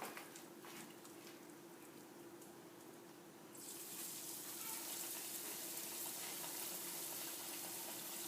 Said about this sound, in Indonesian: sekarang kita bisa ambil sedikit demi sedikit dan kita goreng